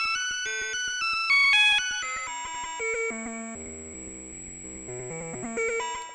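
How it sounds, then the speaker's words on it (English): On a Korg MS-20 mini synthesizer, a glitchy chimes factory preset sounds: a rapid, irregular run of bright metallic bell-like tones jumping erratically in pitch, some buzzy low notes mixed in, steady and moderately loud. "the most glitchy chimes you can imagine"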